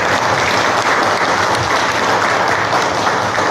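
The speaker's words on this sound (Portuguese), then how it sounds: "As palmas de hoje vão para os nossos anjos da guarda." Audience applause at the close of a spiritist lecture: dense, steady clapping from a full room that holds at an even, loud level throughout, with no speech over it.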